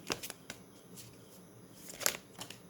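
Tarot cards are shuffled and drawn by hand in a quiet room, giving soft, irregular riffles, slaps and brief snaps that come close and faint, with no voices.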